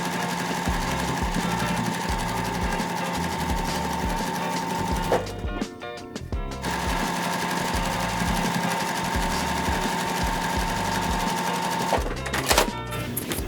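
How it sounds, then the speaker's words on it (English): Sewing machine stitching quilt fabric along a marked line, a steady close mechanical whir with a fast pulsing needle rhythm, stopping briefly twice between runs. "we're just going to repeat this process of sewing on both sides of that line"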